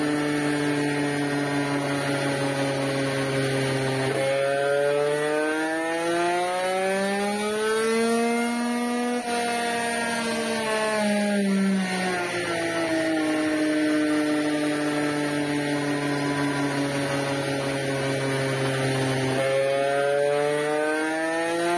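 A tuned engine revving during warm-up and test runs, its pitch climbing and falling in long smooth sweeps as a steady, loud drone, alone with no talk.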